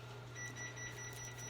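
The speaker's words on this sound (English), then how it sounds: "That's our oven preheating. That's that beeping that you hear." A steady run of short, faint electronic beeps from an oven preheating, repeating at an even pace over a low constant hum, no voices.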